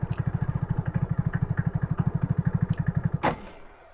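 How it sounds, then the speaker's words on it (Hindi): A motorcycle ridden on half clutch up a steep, rough path toward a hidden waterfall in Rajasthan, its single-cylinder engine thudding in fast, even pulses close by before a sharp clatter and a sudden cut to near silence. "हाफ क्लच पे बाइक चलानी पड़ेगी तभी ये चलेगी भाई।"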